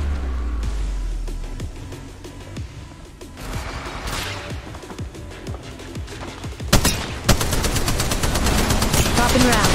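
Video game firefight with rapid bursts of automatic gunfire, sporadic at first and then a dense, loud volley in the last few seconds.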